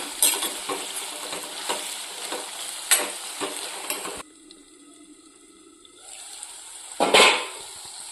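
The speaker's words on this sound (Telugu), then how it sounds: "మధ్య మధ్యలో మాడిపోకుండా కలుపుదామండి" Capsicum frying in a pan for a capsicum and lentil-powder fry, stirred now and then to keep it from burning: rhythmic scraping strokes over a sizzle, then a quieter stretch and one last loud scrape near the end.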